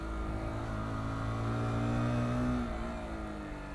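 A Zontes ZT 125-U1 motorcycle crawling slowly through town, its engine a steady low hum that rises slightly and then eases off, close and continuous with no talking.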